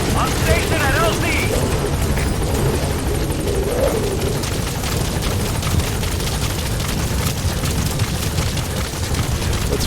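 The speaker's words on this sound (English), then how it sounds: "Support helicopter has arrived." A video game support helicopter arrives with loud, continuous rotor thumping and engine roar close by, a dense, steady wash of noise throughout.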